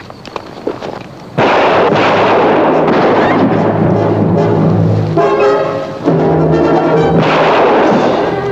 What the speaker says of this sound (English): Sorry I had to shoot you.